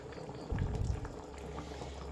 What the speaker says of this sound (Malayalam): ഒരൽപ്പം പച്ച വെളിച്ചെണ്ണ കൂടിയും ഒഴിച്ചു കൊടുക്കാം